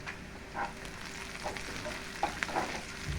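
Black cumin seeds, onion and garlic frying together in oil, a quiet even sizzle with a few light spoon clicks and scrapes scattered through, close up.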